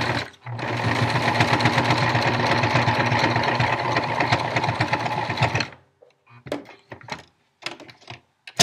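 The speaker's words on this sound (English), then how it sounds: "you're going to sew all the way around the outside" A sewing machine stitches around the edges of a fabric face mask, a loud, steady mechanical whir running continuously for several seconds before stopping, followed by a few scattered clicks and handling sounds.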